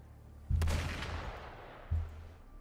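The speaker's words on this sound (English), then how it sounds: "Gunfire! We've got intruders." Gunfire in the video game Wuthering Waves comes as two muffled, booming shots about a second and a half apart, each with a short rumbling tail, fairly quiet and alone.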